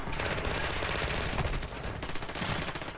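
Gunfire in the video game Warzone 2, dense rapid automatic bursts that fill the whole stretch, loud and continuous, with no pause between shots.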